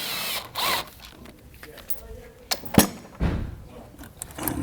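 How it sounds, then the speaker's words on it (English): A ratchet with a 10 mm socket backs out small sheet metal screws on a 2020-2024 BMW X3 during heat management module work, giving short clicking bursts between pauses, fairly close but quiet. "with the 10 millimeter, we're just going to take out these little sheet metal screws back here"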